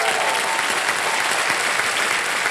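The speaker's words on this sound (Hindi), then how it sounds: "तालियां बज जाएं इनके लिए।" Studio audience on the KBC quiz show breaks into dense, steady applause, many hands clapping at once in a continuous roar for the whole stretch, with no voices rising above it.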